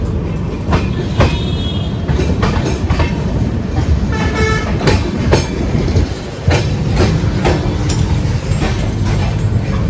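A train rumbles and clatters through Pilibanga railway station, with rhythmic wheel clacks, a couple of short horn toots and loud rolling noise throughout.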